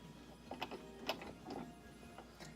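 A sewing machine runs a seam on a stocking, its quiet mechanical whirr marked by a few soft, uneven ticking bursts at close range.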